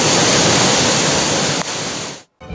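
A flooding river at Kottakudi in Theni rushes loudly and continuously, a dense roar of water close by with no voices, cutting off abruptly near the end.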